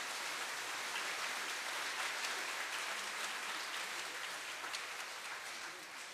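Sustained loud applause from an audience welcoming a multicultural church children's choir at a Korean children's day event, a dense steady clapping that fills the whole stretch with no pause.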